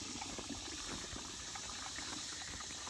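Water runs steadily into a trough in a paddock for Berkshire breeder pigs, a faint, continuous gushing wash with no talk over it.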